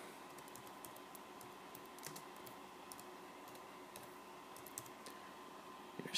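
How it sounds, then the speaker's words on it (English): Typing on a computer keyboard, a run of quick, light key clicks in uneven bursts with short pauses between them, heard close up against a quiet room hum with no voices. "type in your city,"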